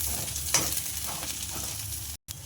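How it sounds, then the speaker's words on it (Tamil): Beans curry stirred in a hot pan, a steady close sizzle with a few scraping strokes, briefly cut by a gap of silence near the end. "இதை நல்லா கலக்கிங்க"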